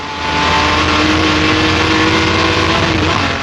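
A Jaguar D-Type race car on a racetrack pulls out of a corner and accelerates up into third gear, its engine roaring loud and close with a rising, sustained tone.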